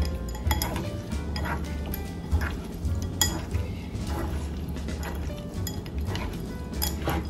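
Paprika seasoning is mixed in a bowl for crispy garlic shrimp, giving close, busy clinks and scrapes of a utensil against the dish in an irregular rhythm, with no talking.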